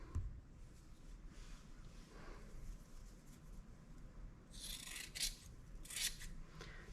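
Scissors cut a square from sheet material for resin bodywork on a Mitsubishi Evo X. The cuts come as quiet crisp snips near the end over a faint background hum, with no speech.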